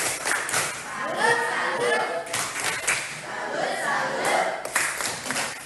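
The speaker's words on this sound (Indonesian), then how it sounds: "Tepuk salut lagi" A classroom of students performs a rhythmic clap, with sharp group claps in short bursts among children's chanting voices.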